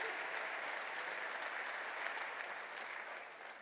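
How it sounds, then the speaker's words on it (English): A dinner audience at an award banquet applauds a guest being introduced, a steady wash of clapping from many hands that holds level and then eases off slightly near the end. "Give him a round of applause"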